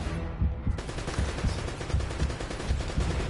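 Rapid gunfire bursts from shooting enemies in Uncharted: Drake's Fortune, dense and loud, with repeated shots crackling over a busy game soundscape for a few seconds.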